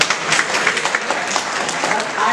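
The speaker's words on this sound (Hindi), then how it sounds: "जोरदार तालियां इन बच्चों के लिए" A group claps for children at an eco-bricking session, a brief, close burst of applause that mixes with background voices.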